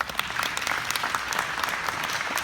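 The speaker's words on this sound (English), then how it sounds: "So let's give them a round of applause." A church congregation applauds a visiting family, dense clapping from many people filling the room evenly at a moderate level, sustained without pause.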